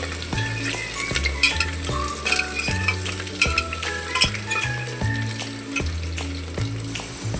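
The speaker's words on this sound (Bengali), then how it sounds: "আলুগুলো কুকারের মধ্যেই ভেজে নিচ্ছি" Potatoes fry in hot oil inside a pressure cooker, sizzling continuously while a metal utensil stirs and scrapes against the pot in repeated clinks.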